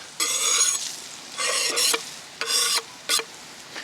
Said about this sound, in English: We're going to slide our onions straight in with the bacon